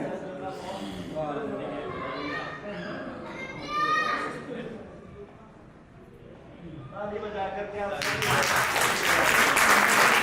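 After a stretch of talking, an audience at an Arya Samaj Mandir event breaks into applause, a loud burst of clapping filling the final couple of seconds.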